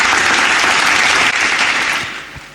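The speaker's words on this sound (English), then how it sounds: "Let's give a big round of applause and let's welcome him on stage." Dense audience applause at a storage and data resiliency conference in India as a speaker is welcomed on stage, loud and steady before tapering off toward the end.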